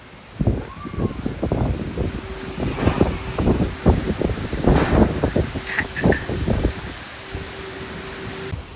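Strong wind blows outdoors and buffets the microphone in rough, continuous gusts, with a faint mechanical hum and rustling in the background.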